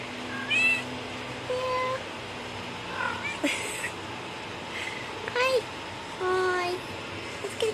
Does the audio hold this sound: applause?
no